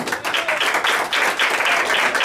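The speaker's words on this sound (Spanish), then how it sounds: "Den un aplauso a Cristo" A church congregation claps loudly during a sermon, bursts of hand claps swelling in uneven pulses across about two seconds.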